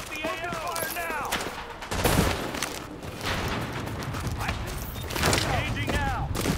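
Sustained gunfire in The Division, set on the streets of New York, rattling automatic bursts and heavy shots up close and loud, layered under excited voice chatter and radio-style callouts.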